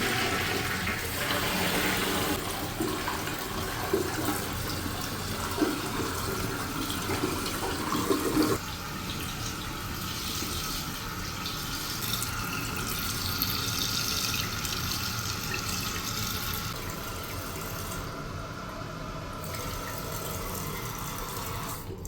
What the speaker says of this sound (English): Alright, let's flush it pretty good.